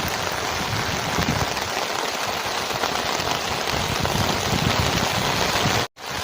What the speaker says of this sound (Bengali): বৃষ্টি হচ্ছে, বৃষ্টি তো হচ্ছে, বৃষ্টি হচ্ছে, ছাতা নিয়ে বসে আছি